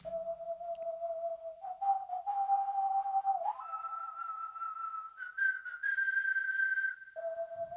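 A person whistles a sustained melody alone, clear and steady, with notes stepping upward and then dropping back down.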